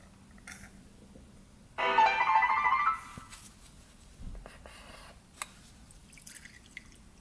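Gasoline drips from the carburetor of a Yamaha Blaster ATV in a few close, irregular drops, with a brief louder burst partway through and no talk.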